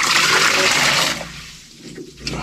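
Water is flushed through a boat plumbing fitting in a loud gushing burst that tapers off after about a second, leaving quieter trickling and small knocks.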